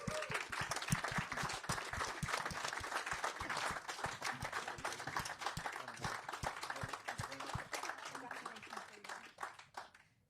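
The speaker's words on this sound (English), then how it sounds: "we give everybody a clap" Sustained applause from an outdoor farming awards crowd honouring the arable farm winner, a dense, steady clatter of many hands lasting about ten seconds before trailing off, with voices audible beneath it.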